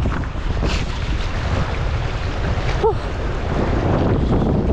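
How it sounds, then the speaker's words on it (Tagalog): Wind roars steadily across open sea around a small fishing boat out after trevally, a broad continuous rush with faint water noise underneath and no clear voices. "Mahangin."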